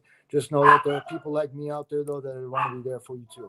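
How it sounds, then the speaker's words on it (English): A small pet dog gives short yips and barks under a man's close, continuous talking. "that's my dog. A little dog."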